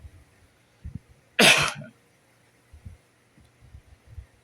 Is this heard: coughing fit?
yes